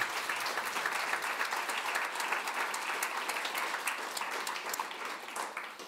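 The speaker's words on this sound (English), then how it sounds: "Can I ask you to show your appreciation and applause?" A conference audience applauds a panel of speakers on political representation: sustained, moderately loud clapping from many people in a hall, steady throughout and tapering slightly at the end, with no talk over it.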